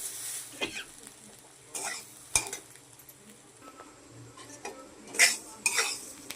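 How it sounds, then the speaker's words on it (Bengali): A spoon scrapes and clinks against a pan while stirring spicy semolina (suji) as it cooks, with soft sizzling underneath and intermittent louder metallic scrapes. "এবার একটু নাড়িয়ে চাড়িয়ে নামিয়ে নেব।"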